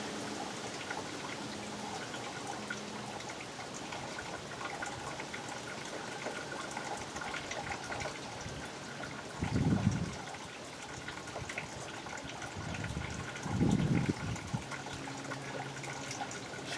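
Power steering fluid poured into the reservoir of a 2005 Toyota Highlander with 174K miles, a soft continuous liquid trickle and splash, faint and close, with a couple of brief louder gurgles.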